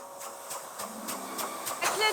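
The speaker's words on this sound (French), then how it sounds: "Un pulseur, un sèche-cheveux ultra puissant." A high-powered blower dryer used for grooming competition show dogs gives off a steady, loud airy hiss, with rhythmic pulsing bursts as it is moved, and speech can be heard over it.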